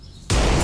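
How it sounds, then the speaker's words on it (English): An explosion in a television advertisement bursts in suddenly after a quiet lead-in, a loud, sustained blast that fills the rest of the moment. "Or a fist bump that ends in an actual explosion?"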